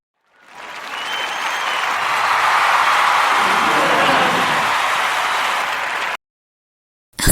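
Steady applause from a group, loud and dense, swelling in over half a second, holding for about six seconds, then cutting off abruptly, with a brief burst returning at the end.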